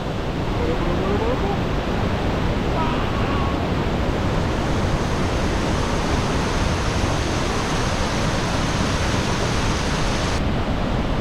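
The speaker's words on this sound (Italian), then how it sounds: "Guarda che c'è una cascata." A steady, dense roar of falling water fills the whole clip, loud and constant like a nearby waterfall, with no pauses, at Iguazu Falls.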